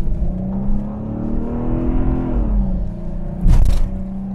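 A 1991 Chrysler Imperial drives over a badly broken road, its steady engine drone rising and falling with a low rumble, and a sharp jolt of bumps and rattles near the end.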